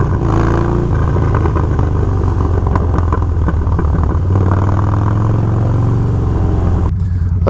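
Harley-Davidson Dyna Low Rider motorcycle after a fuel tune, engine running close and loud with a steady low rumble and rising revs, clattering mechanical texture, cutting off abruptly near the end.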